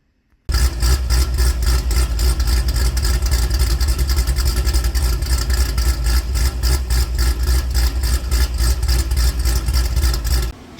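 A Chevy SS with an LS3 V8 and a BTR stage 2 blower cam starts up and idles loud and close. A choppy, lumpy rhythmic throb pulses steadily for about ten seconds before cutting off, with no talk.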